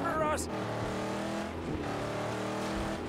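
A car engine in the PS4 video game Mad Max hums and revs steadily throughout, loud and close, with a voice talking over it.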